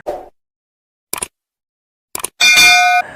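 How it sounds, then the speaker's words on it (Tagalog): Two short clicks are followed by a bright, ringing bell chime that sustains for a moment and then cuts off sharply. "click the notification bell"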